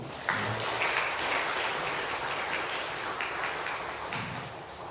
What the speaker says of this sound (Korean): 우리 박수 한번 주시죠